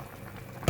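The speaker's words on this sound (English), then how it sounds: "Soup is boiling." A short stretch of steady bubbling from a pot of tofu and crab ball soup boiling, ending with a brief louder clunk.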